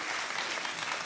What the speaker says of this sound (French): applaudissez tous si vous l'applaudissez.